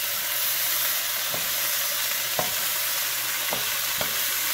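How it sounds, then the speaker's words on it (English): Soy sauce sizzles steadily on half-cooked vegetables for egg fried rice in a hot pan, a close, continuous frying hiss broken by a few sharp utensil taps. "add the soy sauce."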